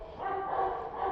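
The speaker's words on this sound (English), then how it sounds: "I know my dogs are making a noise." A dog yips and whines in a continuous, strained, high-pitched burst, fairly close and moderately loud, with no talking.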